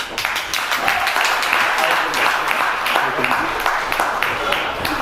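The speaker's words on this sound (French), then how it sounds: "Un tonnerre d'applaudissements pour Kevin." An audience claps for a guest named Kevin at a Rotary youth event, a dense patter of many hands sustained at close range with no gaps.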